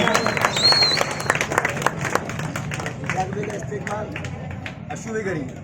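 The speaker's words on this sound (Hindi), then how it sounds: "जोरदार तालियों से उनका इस्तेकबाल।" Loud, steady applause from a gathered crowd welcoming newly appointed party members at an AIMIM ward-level youth appointment event, with dense clapping and voices murmuring beneath it throughout.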